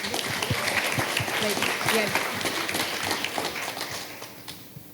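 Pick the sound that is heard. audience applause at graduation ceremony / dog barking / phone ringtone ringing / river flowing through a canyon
audience applause at graduation ceremony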